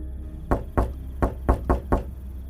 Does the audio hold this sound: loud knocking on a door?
yes